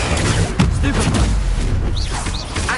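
A Stupefy spell cast in Hogwarts Legacy, heard as loud, dense booming magic blasts and crashes packed close together, with a couple of brief whooshing tones near the end and no spoken voice.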